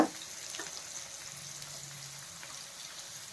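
Okra (lady finger) fries in a pan with a soft, steady crackle and faint sizzle, opening with a brief clatter, quiet and continuous with no talk.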